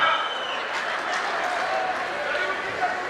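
Crowd at a political rally in Paonta Sahib, Himachal Pradesh, claps in a dense, steady wash of applause that stays even and fairly loud for the whole stretch, with faint voices mixed in.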